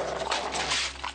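A dog whimpers and whines in a short, loud, strained burst of nasal cries lasting about a second.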